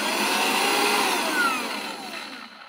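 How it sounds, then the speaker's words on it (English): A small handheld Aldi mini vacuum whirs with a steady high-pitched motor drone, close and loud, then winds down as it is switched off. "Now you have a quick little vacuum."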